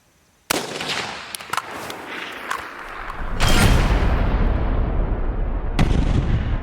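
A .223 rifle fires at bulletproof glass outdoors, a sudden sharp loud crack followed by a few smaller impacts and a second heavy blast, then rumbling echo and wind noise.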